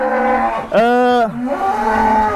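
A single Madura cow gives one loud, close, drawn-out moo lasting about half a second, set against steady background noise of a cattle pen.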